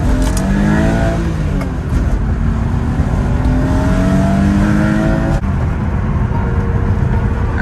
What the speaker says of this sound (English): Do a little first gear pull.